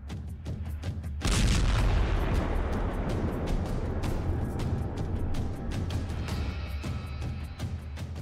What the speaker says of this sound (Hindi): अचानक एक जोरदार धमाके का वीडियो भी इस लड़की के मोबाइल में रिकॉर्ड हो जाता है